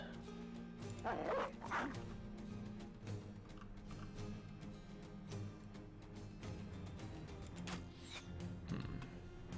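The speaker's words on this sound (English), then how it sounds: "time for letting those dogs out" War dogs are let loose and bark amid a Battle Brothers battle, with several faint yips and barks over a dense, steady bed of combat noise and clatter.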